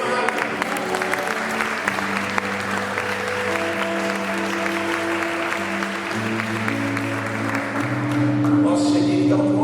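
Church congregation applauding during a Portuguese-language worship service, steady clapping over sustained organ or keyboard chords, with the music swelling toward the end.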